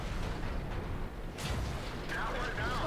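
A tank cannon fires in World of Tanks from a T26E4 Super Pershing, a tier 8 medium premium tank, as a sudden loud boom over steady rumbling battle noise, with a second burst near the end.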